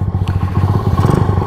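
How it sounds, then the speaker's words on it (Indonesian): A classic motorcycle engine runs right after a kick-start, a close, loud, rapid low-pitched thumping from the exhaust in an even rhythm. "Nih nyalakannya di engkol ya teman-teman semua"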